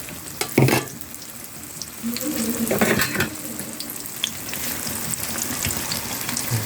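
Tokwa (firm tofu) frying in hot oil in a pan gives a steady, moderate sizzle with soft crackles, plus a brief clatter of cookware early on and a short louder burst near the middle.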